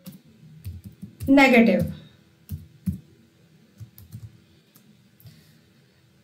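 Rapid keystrokes on a computer keyboard while Python code is typed, steady clicking close by with a brief spoken word over it.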